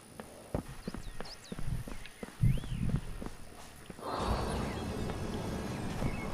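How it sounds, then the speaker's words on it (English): A horse in the Citadel: Forged With Fire video game walks along with a steady clip-clop of hooves and a few snorts, close and moderately loud, before a broad, steady rush of noise takes over. "Horsey!"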